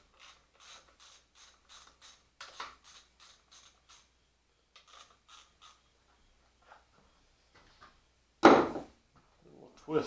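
Ratchet loosening the fork clamp bolts on a motocross bike, upper and lower clamps, with rapid repeated clicking bursts in several runs, quiet gaps between, then a louder clunk near the end.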